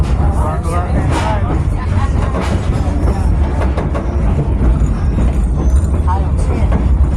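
Passenger train rolling over a steel bridge on the way to Mount Rainier, a steady loud rumble and rattle of the cars on the rails carrying on throughout, with people talking over it the whole time.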